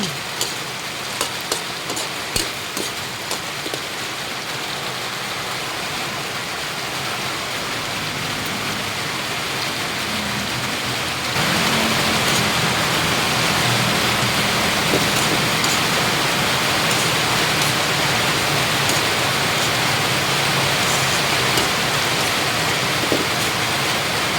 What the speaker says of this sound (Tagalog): Lumalakas na yung ulan.